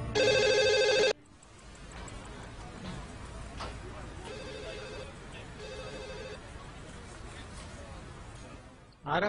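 A telephone bell rings loudly for about a second, then two fainter ring bursts follow a few seconds later against a steady room background with faint voices.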